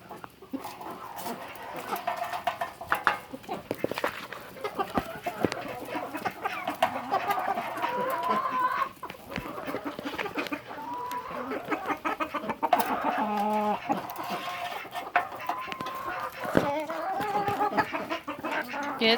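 Chickens and a rooster cluck and call near the microphone while being fed eggs, a steady busy backyard flock sound with someone talking over it throughout.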